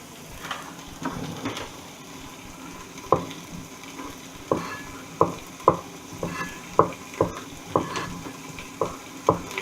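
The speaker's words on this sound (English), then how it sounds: "I have some coconut milk as well that I'm going to add to it" Vegetable curry in a pan as coconut milk is added and stirred in, with a spoon scraping and knocking in a steady run of sharp, close strokes over a low background sizzle.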